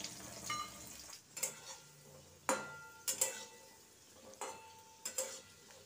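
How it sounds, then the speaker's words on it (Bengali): Potato pieces being stirred and fried in a pan for fish curry: a low background sizzle broken by sharp scraping and clinking of a utensil against the pan, in irregular strokes. "আলুগুলো দেখো সুন্দর করে নেড়ে চেড়ে ভাজা করে নিচ্ছি।"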